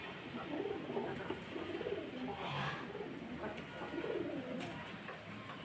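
Pigeons cooing at a home, soft low repeated coos rising and falling over a steady background hiss, fairly faint and without talk.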